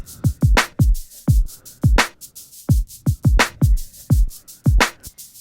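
A hip hop beat with deep, punchy kicks and a steady, crisp shaker pattern ticking over the top. It plays in a loose, even groove, loud and close, with no voices.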